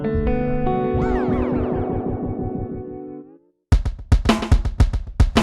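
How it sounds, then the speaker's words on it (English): A Folktek Alter Y effects pedal repeats a tone in a rapid echo that wavers in pitch and decays, drops briefly to silence, then returns as sharp, loud pulsing repeats. "This is the speed of the echo."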